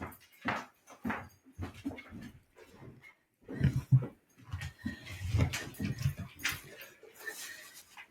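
A collie is let out of a laundry room, with a door opening, scattered soft whimpers and scuffling, and quiet movement in a small indoor space.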